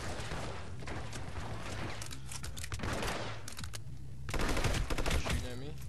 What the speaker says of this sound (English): I could have sworn he was shooting me with a machine gun